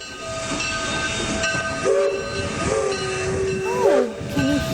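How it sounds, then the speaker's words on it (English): A train pulls into a station with steady rumbling and hiss, tonal squeal and whistle-like sweeps from braking wheels, moderately loud and close, with no talk. "That, Miss Eto, is the noise of a train arriving"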